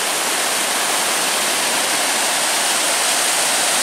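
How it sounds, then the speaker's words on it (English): Fast water pours over Hull's Creek Falls, near Blakely, as a loud, steady, close roar of rushing water with no breaks and no voices. "Look at the speed that water is going."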